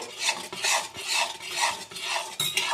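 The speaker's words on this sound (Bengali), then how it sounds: "এইভাবে গুড়টা নাড়তে হবে" Melted jaggery is stirred in a pan with even, rhythmic rasping strokes about twice a second, close and moderately loud, with no talk.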